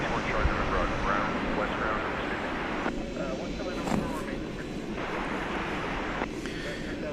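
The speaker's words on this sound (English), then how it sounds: "We've got American Flight 2465 arriving from Santa Ana in California." An American Airlines jet arriving at DFW Airport at night, a steady broad roar of engine noise filling the scene with a brief louder swell midway, while people talk over it.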